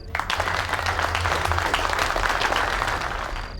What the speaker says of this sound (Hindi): मिस्टर आहान से एक बार तालियां हो जाए भाई, जल्दी से।